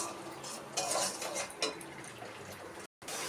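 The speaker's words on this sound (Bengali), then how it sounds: "এবার আমি মশলাটাকে সুন্দর করে কষিয়ে নেব।" Spice paste for a vegetarian potato curry is stirred and fried in a pan, soft quiet sizzling under repeated clinks and scrapes of a spoon against metal, with a brief cut to silence near the end.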